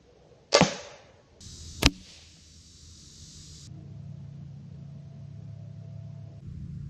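A Killer Instinct Vital X crossbow fires an arrow, giving a sharp loud release snap, followed a second later by a second crisp impact crack, then a low steady outdoor hum with no talking.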